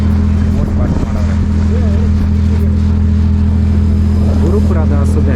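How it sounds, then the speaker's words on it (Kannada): A motorboat engine drones loud and close on the water near a beach, a steady low throbbing hum running without pause while people talk over it. "ಸೊ ನಮ್ಮ ಬೋಟು ಸ್ಟಾರ್ಟ್ ಆಗ್ತಿದೆ, ಇಲ್ಲಿಂದ ಆ ಎಂಡ್ವರೆಗೆ ಹೋಗಬೇಕು"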